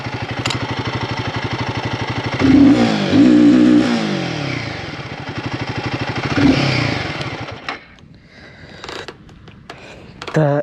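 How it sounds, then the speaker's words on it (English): A Guerrilla 450 motorcycle engine is revved hard toward its top RPM, a loud, steady engine roar with rising and falling pitch sweeps before dropping to a quieter idle near the end. "Let me hit the top limit of this RPM."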